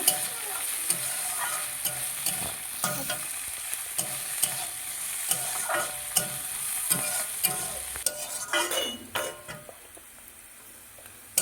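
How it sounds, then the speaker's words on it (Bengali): Chopped carrots and beans fry with onion in a pan for chicken Maggi, giving a steady close sizzle. A spatula scrapes and stirs in repeated strokes throughout. "গাজর বিনস একসাথে ভালো করে একটু ভেজে নেব।"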